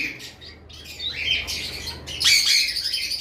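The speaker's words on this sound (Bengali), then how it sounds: "তারপর আমাদের কাছে রয়েছে ইলেকট্রাস প্যারোটের মেল" A large male eclectus parrot gives harsh, loud squawks in repeated bursts close by, the calls rising and breaking over a faint background with no talking.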